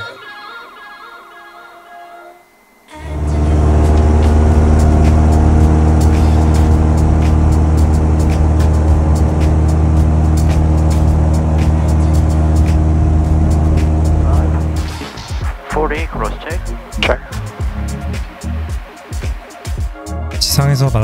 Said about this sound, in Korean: 이제 이륙 허가를 받고 runway 34로 들어섭니다.